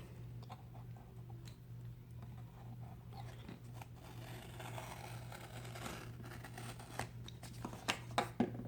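Faint scissor or blade cutting and snipping at a Nexus 6P phone box during an unboxing, small irregular clicks and crunches that grow more frequent toward the end, over a steady low electrical hum.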